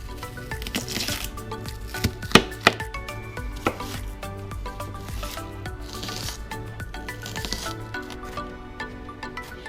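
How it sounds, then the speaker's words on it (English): A knife chopping onion on a cutting board, soft irregular thuds and scraping with a few sharper strikes near the start, no one talking. "So the first thing I'm going to do is cut some onion."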